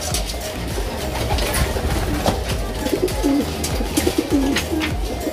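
Pigeons coo repeatedly in a loft or cage area, soft throaty calls rising and falling over a busy background of shuffling and small knocks.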